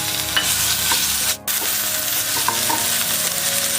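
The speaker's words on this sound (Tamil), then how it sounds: "இப்போ நமக்கு ஆனியன் வந்து ஓரளவுக்கு கொஞ்சம் ஃப்ரை ஆகிருக்கு" Loud, steady sizzling of onions frying in a pan for mushroom kalan masala, with scraping strokes of a spoon stirring through them.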